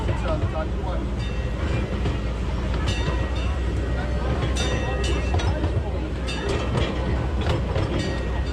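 The Legoland Express, a Lego-themed ride train at Legoland Windsor, rolls along its rails with a steady loud rumble and rhythmic clicking of wheels close by, while people talk throughout.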